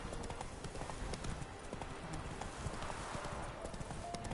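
Roach the horse trotting in The Witcher, a steady stream of hoof clip-clops at an even gait, close and moderately loud over a dense game soundscape.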